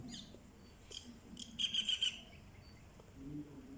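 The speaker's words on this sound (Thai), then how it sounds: "เสียงนกเพาะมากเลยค่ะ นกเอี้ยง" Myna birds call faintly in scattered chirps, with a brief burst of four quick, evenly spaced notes in the middle, against a quiet background.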